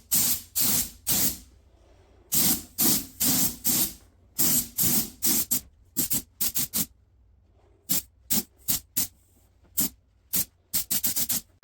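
Repeated short bursts of an AeroPro R500 spray gun with a 1.7mm needle hissing as it sprays primer onto a wheel rim, each under a second with brief pauses between, steady and close.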